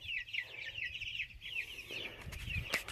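A flock of chickens clucks continuously while pecking at garden scraps, including cucumbers, with layered overlapping calls at moderate distance and some rustling and a sharp knock near the end.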